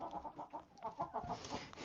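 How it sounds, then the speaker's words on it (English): A chicken clucks in a run of short, soft calls with a fainter background, heard from a little distance at low volume. "Chicken on your shoulder."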